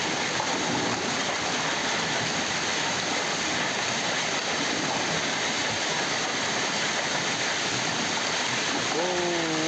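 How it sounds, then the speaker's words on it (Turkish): Walnut-sized hail pours down in a dense, steady roar that fills the whole stretch, loud and close, with a faint tonal sound rising near the end. "Müthiş dolu yağıyor."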